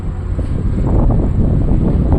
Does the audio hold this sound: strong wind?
yes